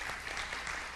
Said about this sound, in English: Applause for the announcements.